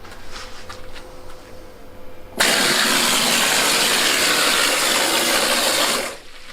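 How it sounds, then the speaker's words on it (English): A compressor-powered spraying machine in a cave house roars on abruptly after a quiet stretch, holding a loud, steady broadband hiss for several seconds before cutting off, with no talk over it. "Can't do any talking because it's going to be really loud with the compressor."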